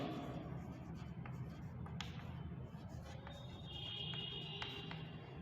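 A pen or marker writes by hand during a probability lesson, faint scratchy strokes with short taps and squeaks against a steady room hiss, close but quiet and with no talk.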